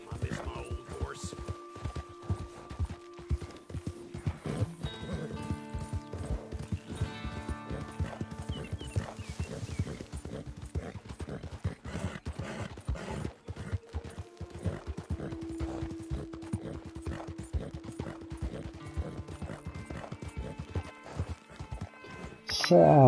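Steady rhythmic hoofbeats of a galloping horse in Red Dead Online run continuously, mid-distance, with someone talking over them and a brief whinny-like sound.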